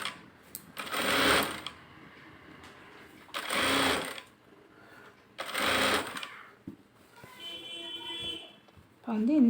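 A sewing machine stitches a double seam on a blouse in three loud, close bursts of rapid whirring separated by pauses, with someone speaking between runs.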